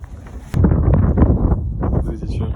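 Strong desert wind on the road to Riyadh buffets the microphone in heavy, rumbling gusts that swell suddenly and keep roaring loudly throughout.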